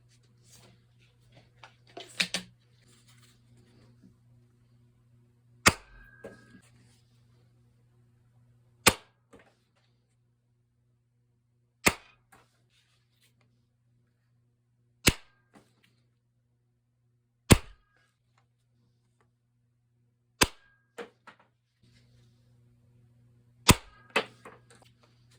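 Sharp, isolated pops from a Nerf Parasite Mark II blaster firing Nerf Elite darts, eight shots spaced roughly three seconds apart over a quiet background with a faint steady hum.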